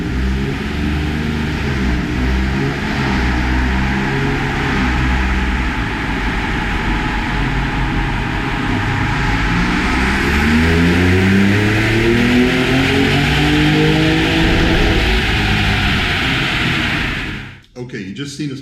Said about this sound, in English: Okay, you just seen us making pulls in this truck.